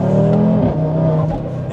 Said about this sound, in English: We will now start driving the car a little bit harder